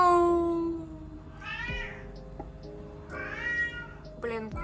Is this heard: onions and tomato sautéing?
no